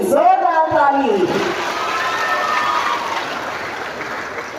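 An audience at an education department award ceremony breaks into applause after a speaker's brief call, the clapping swelling quickly and then holding steady before gradually thinning out.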